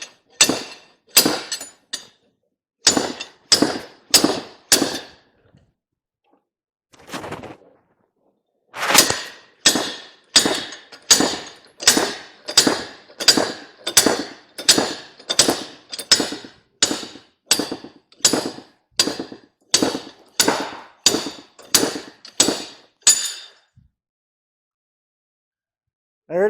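A slide hammer knocks out a ball joint on a Ford Ranger EV: about twenty sharp, metallic impacts in a steady rapid rhythm after a few early blows, loud and close, with no talking.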